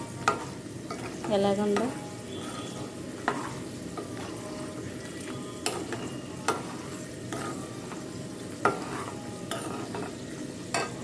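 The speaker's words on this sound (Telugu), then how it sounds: "చూసారండి తాలింపు" Whole spices tempering in hot oil for a gongura and ripe red chilli pachadi, sizzling steadily while a spoon stirs and scrapes the pan, with a brief voice speaking over the cooking.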